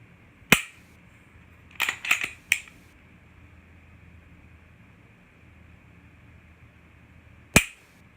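Dry firing a Glock 19 with its factory 5.5 pound trigger: sharp mechanical clicks, one alone, then a quick cluster of three or four, then one more after a long quiet gap.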